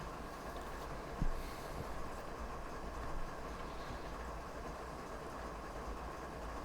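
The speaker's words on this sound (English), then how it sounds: "so we're just going to kind of let the train do its thing." A locomotive hauls a train through the Marias Pass route in Train Simulator 2022, giving a steady, continuous rumble of engine and rolling wheels with one brief clunk, heard alone at an even level.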